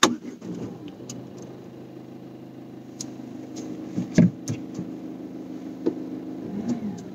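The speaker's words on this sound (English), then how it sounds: "I am inside the Ford Figo BS6 diesel titanium variant and I am going to start the car" A Ford Figo BS6 1.5 diesel in Titanium trim, heard from inside the cabin, fires up with a brief starter burst and settles into a steady, moderately loud diesel idle with a few light clicks and knocks along the way.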